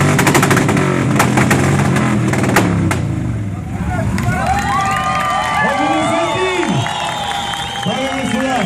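A crowd at a loudest-motorcycle contest claps and cheers loudly for a few seconds, then a motorcycle engine revs and roars in rising and falling bursts.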